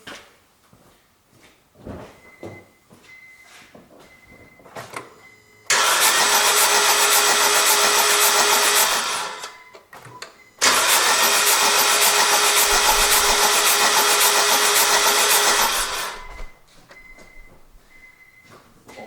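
A car engine cranks and starts twice during ignition coil testing, each time roaring loudly for several seconds before cutting off, with faint clicks and quiet gaps in between.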